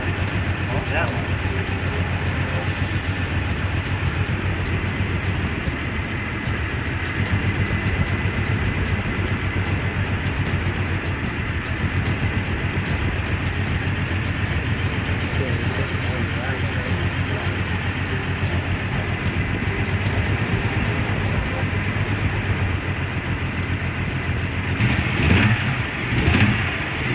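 A 1998 Jeep Cherokee Sport engine idles with a misfire from a bad fuel injector, a steady low rumble close by that carries on throughout while people talk over it.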